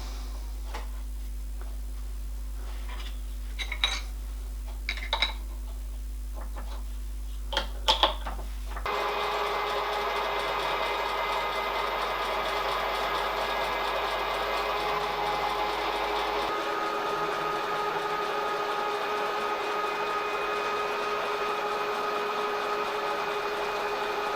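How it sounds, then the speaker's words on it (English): A milling machine cuts a slot for a tab washer with a 4 mm end mill, a steady mechanical hum and whir running for most of the stretch after some earlier clicks and taps. "The machine is slot for the tab washer. I'm going to use a 4mm end mill."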